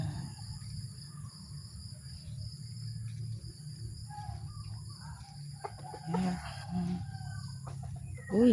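A chicken clucks a few times over steady insect chirring in a quiet garden, the clucks short and moderately near.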